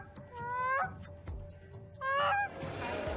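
A six-year-old Cree child on the bank of the Waswanipi River imitates goose calls with his voice, giving two bursts of honking, rising calls separated by a short pause, close and fairly loud.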